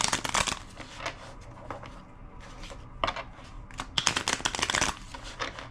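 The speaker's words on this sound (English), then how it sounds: "Two more shuffles." Crisp riffling bursts of tarot cards being shuffled, several quick flurries separated by brief pauses, close and fairly loud.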